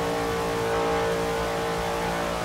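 A Hot Wheels car in Forza Horizon 3 revs hard and holds a loud, constant high engine whine, steady and close with no variation, heard alone.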